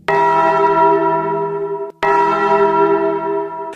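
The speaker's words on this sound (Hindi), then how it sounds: "मंदिर की सारी घंटियां एक साथ बज उठी" Temple bells struck together, two loud metallic clangs about two seconds apart, each ringing with bright overtones that slowly decay, close and alone.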